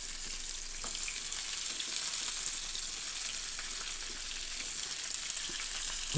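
Thinly sliced onions frying in oil in a thick pan give off a steady, even hiss that holds at a constant level for several seconds, with no voices.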